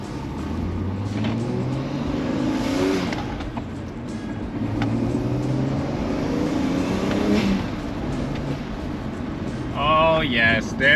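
A BMW 335 engine revs under load with turbo boost building, a steady low rumble rising and falling across the drive, while people talk over it inside the car; a brief higher whine or whoosh appears near the end.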